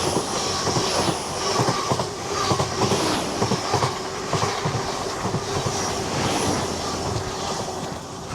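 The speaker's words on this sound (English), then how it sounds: "There's a long train." A long train rolls past close by on a coastal running route, a loud continuous rumble with a rhythmic clickety-clack of wheels over rail joints and faint wheel squeal, sustained for the whole stretch.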